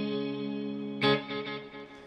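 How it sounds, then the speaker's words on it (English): Galloping drum-echo delay from a Strymon Volante effects unit on a Dawner Prince Pulse guitar preset: a sustained chord followed by a sharp attack, then several rhythmic echo repeats that fade, with no talking. "A little galloping kind of a drum echo. That's why I love the Strymon."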